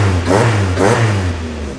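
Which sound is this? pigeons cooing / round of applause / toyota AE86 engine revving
toyota AE86 engine revving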